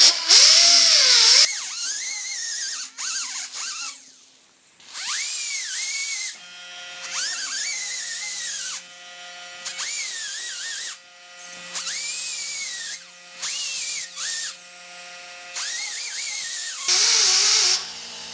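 Power tool smoothing body filler on a 1950 Chevy truck door jamb, a high-pitched whine in repeated bursts that bog down and recover under load, with short gaps between passes, close and loud without talking.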